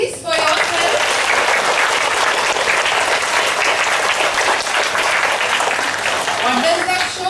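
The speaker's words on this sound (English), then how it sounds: "Clap at least for yourself." Sustained, loud applause from a large crowd at a school assembly, steady clapping that fills the whole stretch without pause.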